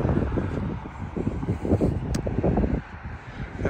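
Gusty wind buffeting the microphone on a bridge over Boston Harbor, a rough, rumbling, uneven roar that eases slightly toward the end, with no talking.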